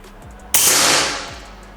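A single sharp, loud shot from a Ghost Warrior Titanium PCP air rifle cracks out nearby, its bright burst decaying over about a second after a low background hum.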